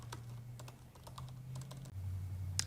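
Rapid clicks of a computer keyboard as a password is typed, a quick irregular run of light keystrokes close by over a low steady hum, with no talking.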